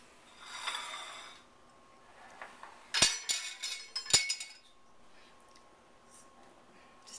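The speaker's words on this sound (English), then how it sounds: "So now what I'm going to do is slice a piece of the cheesecake and show you." A knife cuts through a cheesecake with a graham cracker crust, giving a few sharp clinks of metal on the plate and pan among faint scraping and rustling close by.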